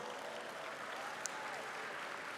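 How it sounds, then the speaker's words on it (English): Audience at a state political party convention applauding, a steady, fairly faint wash of clapping heard from a distance, with a murmur of voices underneath. "They deserve a big round of applause."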